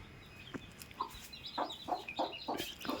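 A hen clucking in a series of short, fairly close calls as she tends a fresh brood of hatched chicks, with a rooster near; the clucks come in a quick irregular run, growing steadier toward the end.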